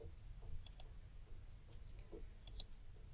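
Computer mouse clicks while working in Paint 3D: two quick double clicks about two seconds apart, crisp and close over a low background rumble.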